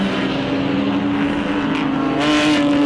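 A race car engine at the Shanghai endurance race gives a loud, steady, droning roar with a sustained hum throughout and a slight swell near the end.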